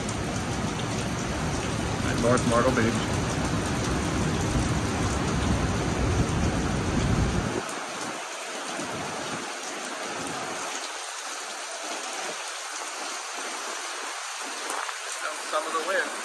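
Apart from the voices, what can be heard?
heavy rain band from Tropical Storm Debby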